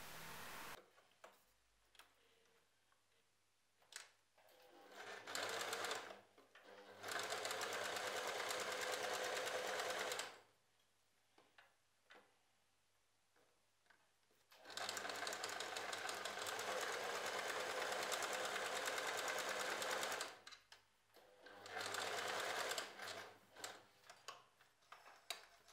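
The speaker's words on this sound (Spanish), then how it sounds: "Vamos a coser esa costura a medio centímetro." Sewing machine stitching a French seam at half a centimetre, three long steady runs of close, even motor whir separated by quiet pauses with faint handling noises and no talk.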